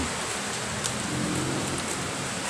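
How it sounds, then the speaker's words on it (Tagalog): Heavy rain pours down steadily, a dense, unbroken hiss of drops close around with no voices. "Grabing ulan."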